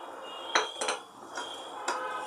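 A spoon scraping and clinking against a pan while almonds, cashews and cardamom are mixed into melted jaggery, several sharp metallic taps in irregular rhythm over a quiet background.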